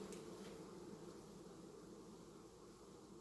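Dense, steady buzzing of a honeybee colony fills the space continuously, a low droning hum with no pauses.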